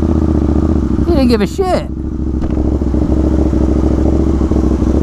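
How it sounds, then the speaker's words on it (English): A tractor tows another tractor along a road, its loud, steady engine rumble close by and continuous while someone talks over it. "Is this a tractor towing a tractor?"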